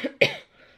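A woman who is ill coughs: a short throaty hack followed by a harsher, louder cough, close and dry, then a faint breathy trail.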